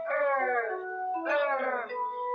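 A voice imitates a puppy growling and tugging a rag, drawn-out rolling "rrrr" sounds in two tuneful, whiny phrases, close and clear.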